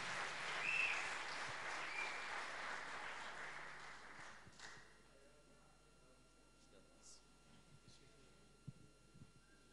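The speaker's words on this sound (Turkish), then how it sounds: "Kuvvetli alkışlarınız Abbas Şenel hocam için olsun" An audience at a poetry festival in Pamukkale, Denizli, gives warm applause that is soft and fades after a few seconds, then a speaker begins talking over a quiet room.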